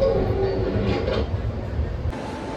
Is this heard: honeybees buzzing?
no